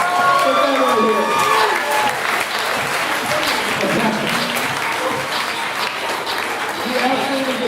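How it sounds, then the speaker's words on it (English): Sustained audience applause fills a keynote hall at a Savannah tech conference, loud and dense throughout, with cheering and whoops over the clapping. "Let's give it a round of applause."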